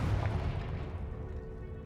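A Confringo fire spell from Hogwarts Legacy bursts with a deep booming blast that rumbles low and decays over about two seconds, close and heavy.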